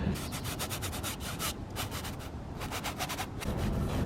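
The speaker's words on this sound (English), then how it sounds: "I'm using a worn out number 8 natural bristle flat here, and sort of a neutral gray color, just to start scrubbing in some of the buildings." Worn number 8 natural bristle flat brush scrubbing neutral gray paint onto a cityscape painting, a steady close rough rubbing with rhythmic strokes throughout.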